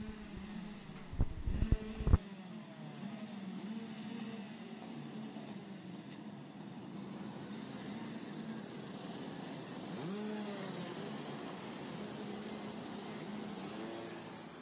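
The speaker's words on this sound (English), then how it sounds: "So we are revs up, lights on, and we get underway." Several race car engines drone and rev together on the starting grid at a steady, moderately loud level, with a few sharp bursts near the start and rising pitch sweeps later as the race gets underway.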